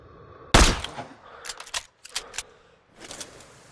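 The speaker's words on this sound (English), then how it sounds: "Check the wind and pull the trigger." A sniper rifle in Sniper Ghost Warrior 3 fires one sharp, loud shot that decays briefly, followed by a run of quick mechanical clicks and clacks.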